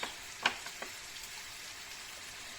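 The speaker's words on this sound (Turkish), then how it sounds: "Birazcık kavuralım" Quiet sizzling of leeks, celery root and orange juice in a pan with a few sharp scraping clicks from stirring, steady and close, no voices.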